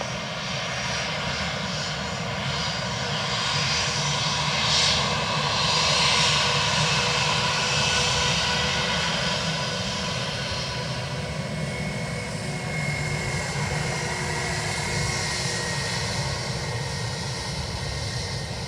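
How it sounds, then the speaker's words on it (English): A British Airways airliner in from Heathrow passes at Dublin Airport, its engines a steady, broad roar that swells gently and holds for the whole stretch without a break, no voices over it. "That was obviously BA from Heathrow."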